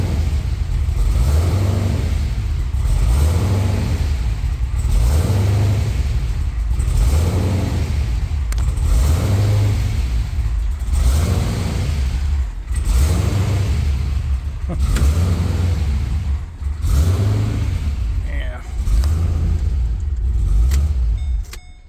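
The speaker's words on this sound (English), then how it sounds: "This blower surge." Twin-turbocharged Chevrolet Caprice PPV police sedan with a swapped 6L90E transmission idles cold while its turbos surge, a loud close engine drone swelling and fading in a regular pulse about every one and a half seconds, alone without talk.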